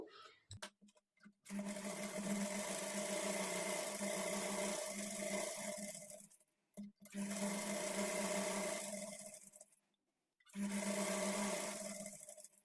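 Electric sewing machine stitching a front-slit designer kurti, running in three steady bursts with brief pauses between, a close, even mechanical whir with a low rhythmic hum.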